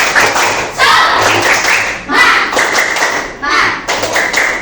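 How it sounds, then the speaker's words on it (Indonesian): A class of Indonesian sixth-grade students claps in a rhythmic 'tepuk semangat' cheer, in loud bursts of patterned claps and slaps with short pauses between them and voices calling along. "mari kita tepuk semangat"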